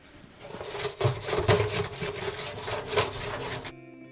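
A new scrub brush scrubs a bathroom fan cover in repeated back-and-forth strokes, a rough bristly rasp rising and falling about twice a second, close by, with no talk.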